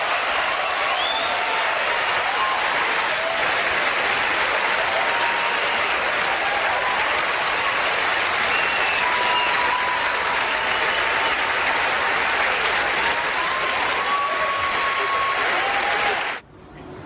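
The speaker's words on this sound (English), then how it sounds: "Really? Standing ovation? Raucous applause" The Oscar audience gives a standing ovation when Roman Polanski is named for The Pianist: loud, sustained applause mixed with cheers and whoops, unbroken for about sixteen seconds before cutting off abruptly.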